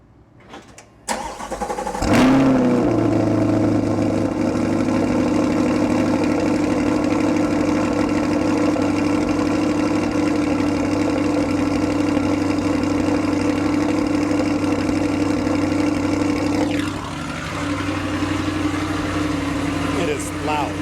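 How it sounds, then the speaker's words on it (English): Chevrolet Corvette cold start, recorded from behind the car: a short crank and a sharp bark as the engine fires, then a loud, steady, deep idle that holds for many seconds and eases slightly near the end. "final cold start of the Corvette"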